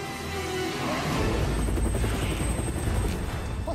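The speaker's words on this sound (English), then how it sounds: "Time to wrangle me a chopper." Helicopter rotor thumping loudly and steadily alongside heavy low rumble, part of an action sequence in a TV comedy police trailer, continuous throughout with no talk.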